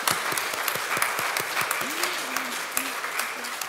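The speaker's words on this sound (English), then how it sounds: "And we'll just have a wee clap, I think, for all of our three prayers this morning." A church congregation gives a short clap for three people who led prayers during a morning service, distinct individual hand claps ringing out over a steady bed of applause, with a voice briefly murmuring partway through.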